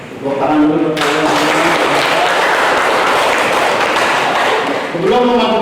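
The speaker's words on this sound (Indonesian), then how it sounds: "Tepuk tangan dulu untuk kalian." A class of pupils bursts into loud, close applause after singing, dense rapid clapping that starts abruptly and fills several seconds before stopping as voices resume.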